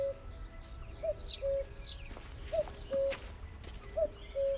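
A cuckoo calls in the video game The Night of the Rabbit, its short tonal notes repeating in pairs at a steady pace over a soft ambient bed with higher chirps scattered between.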